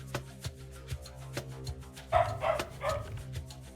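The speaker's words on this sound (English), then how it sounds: "My dog's barking." A dog barks somewhere in the house, the barks coming as a few short, fairly faint bursts behind a steady musical game soundtrack with regular beats.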